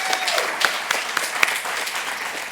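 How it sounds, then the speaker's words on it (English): Meeting participants break into sustained applause for a support team during a weekly project meeting, a steady wash of clapping with a few sharper individual claps standing out. "Let's give a big round of applause to our Sumo support team."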